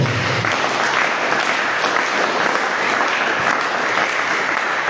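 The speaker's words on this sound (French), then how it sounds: "Acclamons très fort le Seigneur" A church congregation at a French-language service bursts into loud, sustained applause for the Lord, dense clapping filling the whole stretch without pause.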